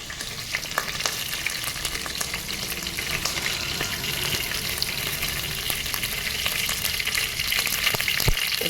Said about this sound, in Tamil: தாளிப்புக்கு கருவேப்பிலை போட்டாச்சு.